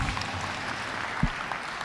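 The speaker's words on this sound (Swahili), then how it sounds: "Tupigie Bwana makofi." A church congregation at a Sunday service claps for the Lord in a steady, dense wash of many hands that carries on evenly throughout.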